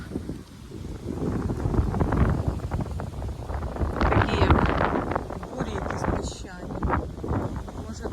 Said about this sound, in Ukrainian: Такий вітер зірвався, може до доща, не знаю.